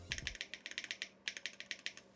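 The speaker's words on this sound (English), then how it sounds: "Okay, let's do another typing test." Typing on a Savage 65 mechanical keyboard with Gateron CJ switches, dampened with polyfill and a toolbox liner: a steady run of crisp, close keystroke clacks in two bursts with a short pause, no voices.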